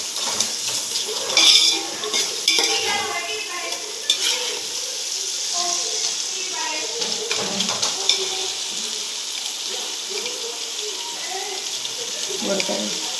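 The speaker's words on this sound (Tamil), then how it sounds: "தக்காளி எல்லாம் நல்லா வதங்கிடுச்சு பாருங்கள்" Tomatoes, ginger and garlic sauté in a pan while being stirred for coconut rice, with a continuous sizzle and frying hiss broken by occasional metallic clinks and scrapes of a utensil against the pan.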